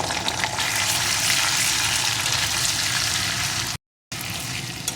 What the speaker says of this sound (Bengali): এক চামচ মতন জিরে আদা বাটার পেস্ট এই মশলাটা একটু কষিয়ে নেব